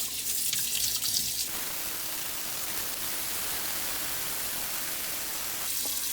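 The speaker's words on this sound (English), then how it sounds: "Put some water over them." Tap water runs hard into a cooking pot of washed pig tails, a loud steady rushing stream that changes tone as the pot fills, close and continuous with no talking.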